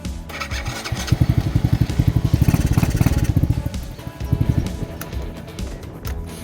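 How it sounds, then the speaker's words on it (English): Lifan KP Mini 300 motorcycle engine with a ZS175FMN motor idling and misfiring, a close, loud, uneven chugging putter with stumbles and irregular bursts, suspected faulty ignition coil. "Misfiring. I still think that's my fucking ignition coil."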